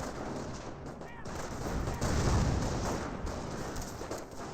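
Battle sounds from the Company of Heroes strategy game: dense rifle and suppressive gunfire with dull explosive thuds, a continuous loud barrage layered under faint voice.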